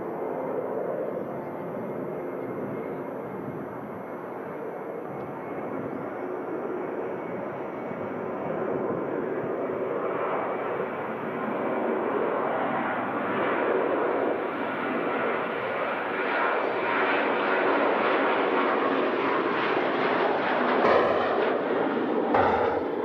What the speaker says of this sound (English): Next departure, Jet2, heading out to Malaga, the south of Spain,